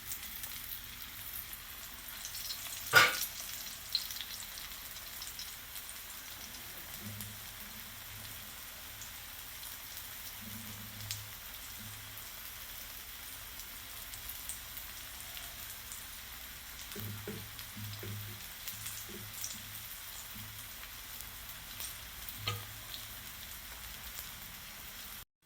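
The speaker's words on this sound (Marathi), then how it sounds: "तर आता बारीक गॅसवरती आपण हे फ्राय करतोय." Semolina-coated potato slices fry gently in oil over a low flame, a soft steady sizzle with scattered pops and one sharper clatter early on, heard alone without talk.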